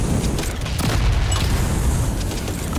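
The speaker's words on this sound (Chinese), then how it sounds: "爆炸十字弓" An explosive crossbow blast in the video game Strange Brigade erupts as a dense, booming rumble of layered explosions that rolls on loudly for a few seconds without pause.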